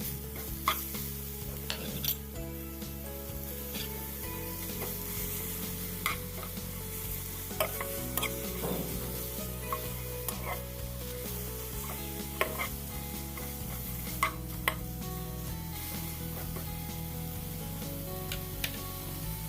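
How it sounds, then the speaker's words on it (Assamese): Bottle gourd peel dry-roasts in a pan over low heat, giving faint, steady stirring and soft sizzling beneath continuous background music. "এইখিনি আমি কম জুইত 2-3 মিনিটৰ কাৰণে এনেদৰে শুকানকৈ ভাজিম।"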